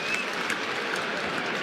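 Carlton fans in a big stadium crowd at an AFL match against GWS applaud a tackle, a broad, steady wash of clapping and crowd noise heard from a distance.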